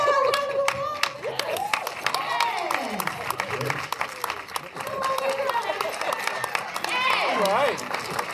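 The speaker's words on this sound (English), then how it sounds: "Can we give her a round of applause?" Audience applause and cheering for a guest's royal-style entrance at a Black Panther panel discussion and screening, steady crowd clapping with whoops, mixed with loud talk and chatter throughout.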